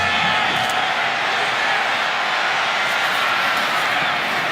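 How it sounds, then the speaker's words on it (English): A packed football stadium crowd roars at Papa John's Cardinal Stadium during a Louisville versus Kentucky game, a dense, loud, sustained wash of cheering and yelling with no letup. "this great crowd is jacked at Papa John's Cardinal Stadium"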